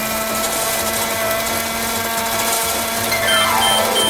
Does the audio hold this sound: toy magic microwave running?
yes